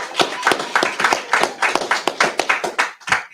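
A congregation at a Purim closing service claps hands together in a brisk, steady rhythm, with loud, close, evenly spaced claps continuing almost without pause.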